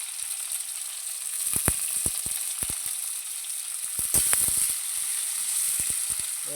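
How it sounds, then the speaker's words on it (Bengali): Chopped onions fry in a pan for a loitta fish bhorta, a steady oil hiss broken by scattered sharp crackles and pops, close and fairly loud with no voices. "কুচনো পেঁয়াজগুলো এবার ভেজে নেওয়া হচ্ছে।"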